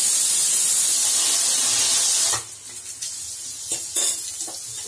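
Loud, dense sizzling of spices frying in hot oil for broad bean poriyal, dropping suddenly to a quieter crackle with a few light clinks of a utensil against the pan.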